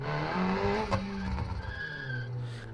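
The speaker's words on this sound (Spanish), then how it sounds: "han puesto el sonido este de los frenos" Tires skid and screech as off-road cars brake in a jungle-map racing game, a sustained squealing tone riding over steady engine roar, loud and close with no talk.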